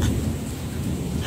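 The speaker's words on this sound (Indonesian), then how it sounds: "Kilat lah sayang." Thunder during a lightning storm rolls as a low, continuous rumble, loud and close, with a soft hiss of rain underneath and no voices.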